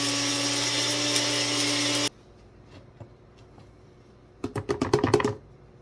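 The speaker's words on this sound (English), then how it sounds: "By shoving it in a blender." A kitchen blender grinds clay in a loud, steady whir for about two seconds, then stops abruptly; a few soft clunks follow, and then a burst of sharp clattering rattles near the end.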